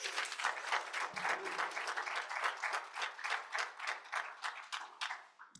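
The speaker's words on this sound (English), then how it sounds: "Let's give all of our speakers another big round of applause." Applause from a small audience at a poetry reading, sparse rhythmic clapping that swells in waves and fades out near the end.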